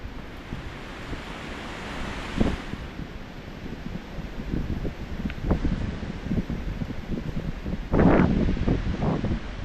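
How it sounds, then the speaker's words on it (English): Gusty wind rushes steadily through trees ahead of tornado-warned storms in the South, with leaves rustling and louder gusts buffeting the microphone at moments, no voices. "the wind is really starting to pick up here."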